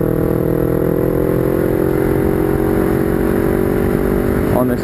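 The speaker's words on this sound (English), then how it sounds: "Watch me ride my shitty motorbike." A motorbike riding on a road gives a steady, close engine drone with a slight rising rev, wrapped in road and wind noise, with a voice talking over it.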